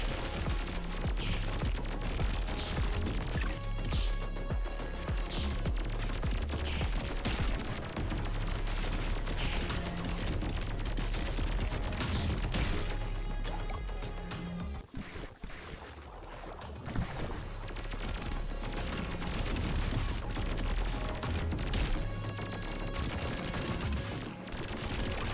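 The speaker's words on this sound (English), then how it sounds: "I can shoot anything because they ricochet." Ricocheting gunshots ring out in the roguelike video game Pathogenic, set inside a human body, as a dense, continuous stream of rapid shots layered over loud, busy game music that barely lets up for the whole stretch.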